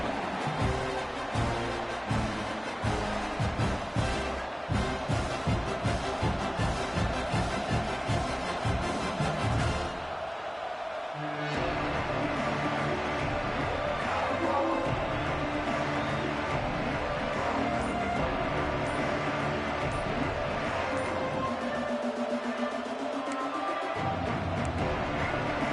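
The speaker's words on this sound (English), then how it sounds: "This crowd bringing an ear-splitting welcome to their visitors." A stadium crowd roars continuously in a Florida Gators versus Oklahoma Sooners college football video game, a dense, steady wash of cheering under rhythmic pulsing, easing briefly before swelling again.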